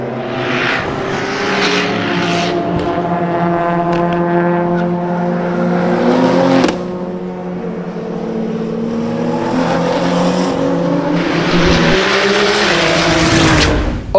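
A 1300-horsepower GTR race car runs flat out down a track straight at about 260 km/h, its loud, continuous engine roar climbing in pitch with a brief gearshift break midway before pulling hard again.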